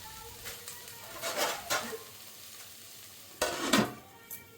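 Chopped onions and green chilies fry in a pan for a country chicken pulao, stirred with several scraping strokes over a low, steady sizzle, close by and without speech.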